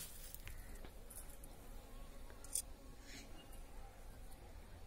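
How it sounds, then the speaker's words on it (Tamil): Bees forage on flowers in a home garden, their faint buzzing drifting close and away against a quiet outdoor background. "பாருங்கள், தேனீக்கள் வந்து தேன் எடுத்துட்டுருக்கு."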